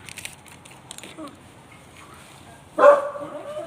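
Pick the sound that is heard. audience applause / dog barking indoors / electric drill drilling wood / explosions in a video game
dog barking indoors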